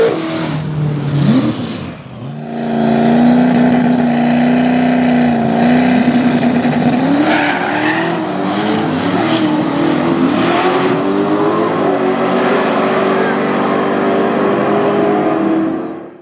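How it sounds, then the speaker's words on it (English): Turbo Malibu and Monte Carlo cars drag racing at a Cash Day event in Tucson, engines roaring loud and close, revving up and then holding a long sustained wail down the strip, with no talk. "Turbo Malibu versus the Monte Carlo."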